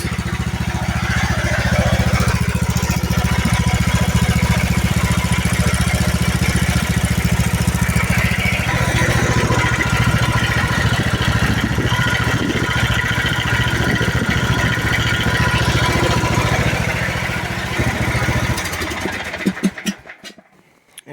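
An MTD 547cc lawnmower engine starts and settles into a loud, steady idle that runs continuously for most of the time before cutting off near the end.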